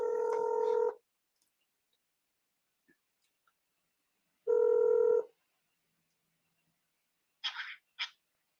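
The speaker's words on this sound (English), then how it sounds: "Let me see if I can get him on the phone" A telephone dials out to place a call: a steady tone lasting about a second, then a long silence, then a second matching tone, followed by two short bursts, heard close with no talking.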